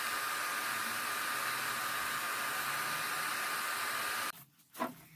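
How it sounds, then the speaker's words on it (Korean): A handheld hair dryer blows hot air steadily onto foil-wrapped hair during a hair-colouring exam, a loud even rush that cuts off near the end, followed by a brief faint sound. "호일 접고 드라이기로 열 바람을"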